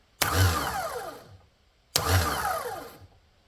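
A Kohler Magnum M20 engine's starter motor, faulty and failing to engage, spun up on bench power twice: each burst starts abruptly with a whirring hum that winds down over about a second, close and fairly quiet.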